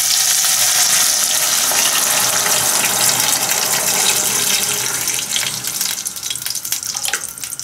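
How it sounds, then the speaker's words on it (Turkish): Water gushes into a pan of fried mince, a loud steady pour that hisses as it hits the hot meat, easing off and turning to bubbling splashes near the end. "Şimdi suyumu ilave ediyorum"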